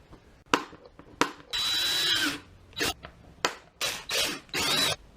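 Power drill running in short bursts while drilling into a bent part during work on a vintage Beta Synt trial bike, with several brief whirring pulses and one longer sustained run, close and fairly loud.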